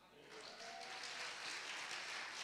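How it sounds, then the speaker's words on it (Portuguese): A church congregation applauds for a pastor. The dense clapping is quiet and swells after the first moment, and a faint voice can be heard under it. "Quem pode dar um aplauso?"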